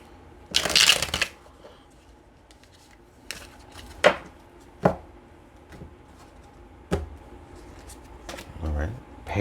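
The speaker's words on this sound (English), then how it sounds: "One more shuffle." Tarot cards are shuffled, opening with a loud riffling burst followed by several sharp taps and softer shuffles spaced apart, with quiet gaps between, heard up close.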